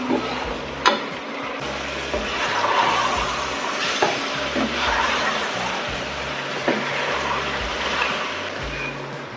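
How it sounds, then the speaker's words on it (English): Goat meat stew with chili being stirred in a pot, village-style outdoor cooking: a steady scraping and bubbling bed with a few sharp spoon knocks against the pot, close by with no talk. "And stir."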